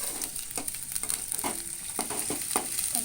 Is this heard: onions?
yes